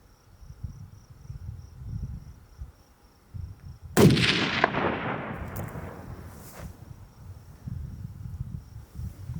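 A single loud 220 Swift rifle shot cracks out while shooting at a rock chuck outdoors, its report rolling away in a long fading echo over a faint background of insects.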